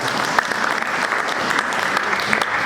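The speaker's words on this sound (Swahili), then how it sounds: "Makofi kwa Bwana" A church congregation in Goma claps together during a sermon: dense, steady applause that fills the whole stretch at an even level, with a few sharper claps standing out.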